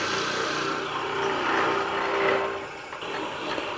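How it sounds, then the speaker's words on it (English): A power drill bores out the bottom of a turned wooden box, a steady whirring grind that swells and eases over a few seconds, close and continuous with no talk. "we're just going to drill it out 2 inches"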